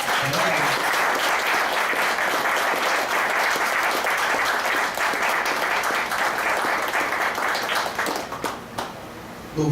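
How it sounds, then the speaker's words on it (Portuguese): A church congregation claps loudly in a dense, sustained wave of applause that thins and fades out in the final seconds. "Pode aplaudir a Jesus."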